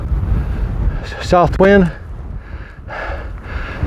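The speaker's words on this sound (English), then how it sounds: "It's quite windy up here, so I'm not going to stay long." Strong wind on a mountain summit on the Appalachian Trail buffets the microphone in a steady low roar, with a short spoken phrase partway through.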